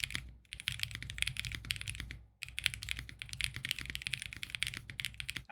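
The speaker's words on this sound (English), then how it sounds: "I'll give you guys a quick little typing test here so you can kind of hear the sound." Rapid typing on a LEOBOG K81 mechanical keyboard with Ice Crystal linear switches, with quick clacky keystrokes in an even stream, close up, broken by one brief pause.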